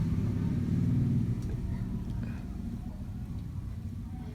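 Vehicles rumble past outdoors during a Rainbow Loom dolphin crafting session, a steady low engine drone swelling at first and then easing off as a car goes by, loud and continuous with no talk over it.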